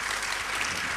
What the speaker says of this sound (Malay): berikan tepukan kepada Ustaz Adha insya-Allah